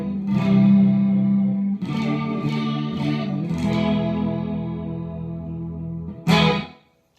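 A guitar runs through a pedalboard effect set to mimic a swirling Leslie organ. Sustained, thick chords wash with modulation and reverb, loud and close, with a sharp strum near the end before a quick cutoff.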